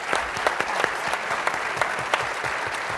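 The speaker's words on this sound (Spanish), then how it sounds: "Un aplauso para ellos, por favor." Steady audience applause closing an expert panel talk, many hands clapping evenly throughout at moderate volume with no voices standing out.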